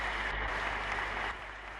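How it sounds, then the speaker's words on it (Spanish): Members of a Spanish parliament on their feet, applauding and giving an ovation to the head of government: a dense, steady wash of clapping that fills the room and eases slightly toward the end. "Los procuradores puestos en pie aplauden y ovacionan al presidente del Gobierno."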